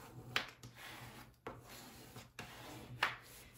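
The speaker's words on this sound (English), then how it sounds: "one thing it's good to do is you want to make sure you burnish this well" A tool rubs and scrapes across Cricut iron-on vinyl to burnish it for a beginner Valentine heart project, making three short, close scraping strokes spaced about a second apart over a low hum.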